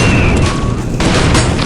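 Loud, booming shotgun blasts from the springy shotgun in the Pixel Gun 3D video game, firing in quick succession over dense game noise.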